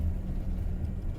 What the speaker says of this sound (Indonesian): ini malah lebih dominan suara ban